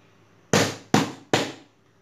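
Three sharp hand slaps, evenly spaced and close, each a crisp strong smack with a short decay, in a quiet room during a Marathi classroom number lesson.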